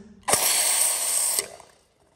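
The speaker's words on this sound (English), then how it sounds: "literally spray foaming in all of these gaps like this" A can of spray foam hisses as it is shot into gaps in a shipping container's floor channels, one loud steady spray about a second long that cuts off and fades.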